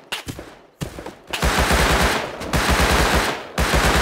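AK rifle gunfire in the survival game Rust: loud, rapid automatic bursts, a short spurt and then long sustained strings of shots close up, with brief gaps between.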